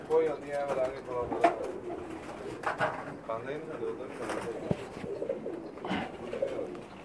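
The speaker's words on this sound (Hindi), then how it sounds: "कैसे लगे आपको उस्ताद जी के कबूतर?" Breeding pigeons, Pakistani birds kept in a loft in Jeddah, coo in repeated soft throaty phrases close to the microphone, while people talk quietly in the background.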